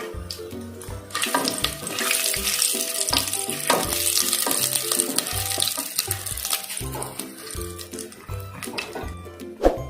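Whole cardamom pods, star anise, cinnamon sticks and a bay leaf sizzle in hot oil in a pan for chicken dum biryani, a steady crackling fry with background music, no voices.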